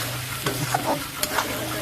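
Vegetables fry with turmeric in a pan, a dense close sizzle with a few quick scraping stirs over a couple of seconds, no talking.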